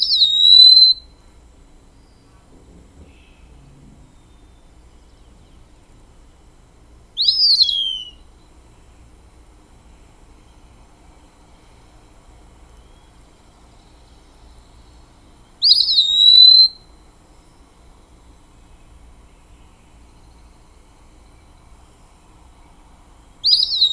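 Bird singing its simpler daytime song, a clear whistled pee-wee pee-you, repeated as four short high phrases spaced several seconds apart with quiet gaps between, alone and fairly close.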